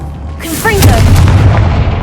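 A Confringo fire spell bursts with a deep booming blast in Hogwarts Legacy, cast while exploring near a witch's tomb; one heavy explosion follows a brief whooshing lead-in, then a low rumble lingers as a voice is heard.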